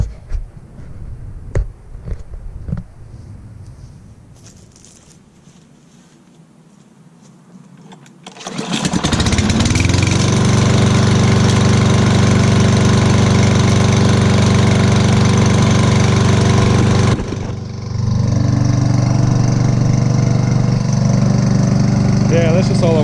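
A lawn mower engine is pull-started after a few faint rattling tugs and quiet moments, then catches and runs loud and steady at idle, sputtering briefly before settling.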